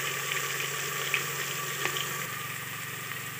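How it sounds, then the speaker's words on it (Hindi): Spices for a mixed vegetable tehri fry in a pot after water has been added, a steady watery hiss and bubbling with a couple of faint clicks, heard alone without talk. "इसे आप अच्छी तरीके से भून लेंगे, पानी इसमें डाल के भूनते हैं।"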